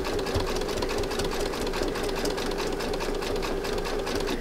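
A sewing machine runs steadily, zigzag stitching two fabric-covered rope coils together for a rope urn, its rapid mechanical hum continuous and close with no voices.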